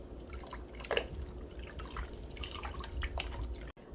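Hair dye drips from a 38-inch blonde bundle being redipped for a pink watercolor dye, producing scattered soft splashes and taps against a faint steady background, with no talking.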